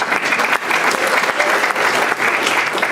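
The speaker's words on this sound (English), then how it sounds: "give yourselves a big round of applause" A steady round of applause from an audience of older adult students at a College of Marin lecture, dense and continuous throughout with no break.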